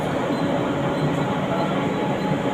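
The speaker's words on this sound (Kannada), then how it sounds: "door close ಆಯ್ಬೊಕ್ಕ A C train pope" A suburban AC train on the Virar–Churchgate line rumbles steadily and loudly as it departs, a continuous broadband roar of rail movement with no pauses.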